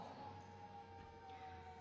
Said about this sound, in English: We had a storm, we had thunder, we had lightning, and now we have sirens.